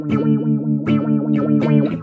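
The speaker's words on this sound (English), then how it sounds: "if you increase the speed, you're going to hear that tone go up and down faster" Guitar-like tone run through a modulation effect at full intensity, its pitch wavering up and down in a steady repeating sweep, with plucked notes re-attacking about every three-quarters of a second, loud and continuous with no talk.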